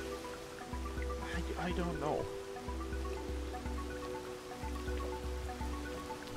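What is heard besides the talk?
rain falling in the video game Rain World Downpour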